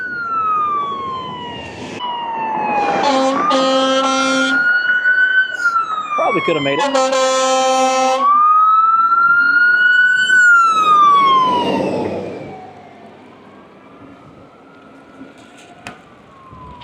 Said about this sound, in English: There's a fire truck coming.